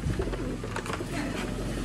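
Pigeons coo continuously at close range, low soft warbling calls overlapping one another, with a busy rustling background throughout.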